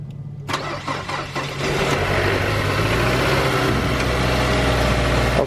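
A cheap used diesel Volkswagen Passat bought with low oil cranks and then catches, settling into a loud, steady, close-up idle.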